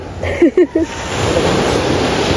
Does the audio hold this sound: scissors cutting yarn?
no